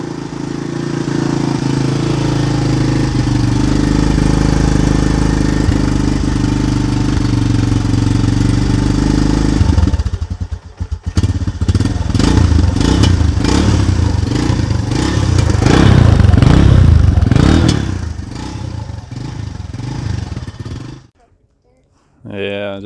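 Honda TRX250X ATV engine on its factory exhaust idles with a steady low putter and clatter, then revs in uneven bursts before cutting off near the end, with voices talking over it.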